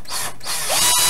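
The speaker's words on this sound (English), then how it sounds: "I'm going to try my drill." A power drill with its clutch set to three whirs loudly up close in a short burst, its pitch shifting as it speeds up and briefly dips.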